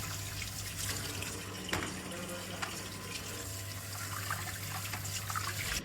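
A pot lid being washed under running tap water, with a continuous splashing flow and a steady hum beneath, close by, interrupted by a few clinks and knocks.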